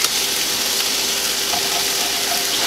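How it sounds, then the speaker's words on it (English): Butter and flour being stirred together in a pan to make a roux, a soft steady sizzle with faint scraping of the utensil, close and alone. "So I've got a little bit of liquid butter in the pan, a little bit of flour, and I want to mix that first."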